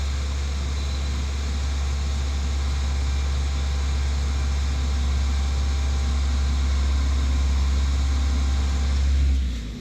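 A Vauxhall Opel Tigra engine held steady at about 2,000 rpm, a continuous even hum with a strong low drone that stays level throughout, then drops off abruptly at the very end.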